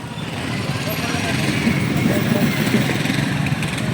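Royal Enfield Himalayan 450 motorcycle engine held at full throttle at a World Motorcycle Day event, a loud steady roar that builds slightly over a few seconds, with crowd noise around it.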